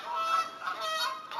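Seagulls call outside an apartment in a series of repeated honking cries, moderately distant and heard through indoor quiet without any talking.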